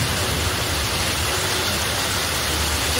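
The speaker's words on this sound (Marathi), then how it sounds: "किती पाऊस चालू आहे, सगळीकडे आवाजच आवाज आहे पावसाचा" Heavy rain pours steadily during a monsoon downpour with lightning about, a dense, loud, even hiss and rush that fills the whole stretch with no voices.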